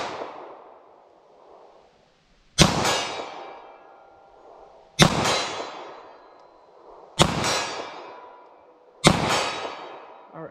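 Four sharp, loud gunshots of 9mm rounds from a snub nose revolver, spaced about two to three seconds apart, each cracking then ringing out with a short echo at an outdoor range.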